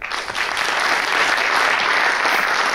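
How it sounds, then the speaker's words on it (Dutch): Sustained, loud audience applause at a Venray candidates' debate, greeting the CDA list leader; dense and steady clapping from start to finish with no voices over it. "Mag ik een applaus voor de lijsttrekker van het CDA"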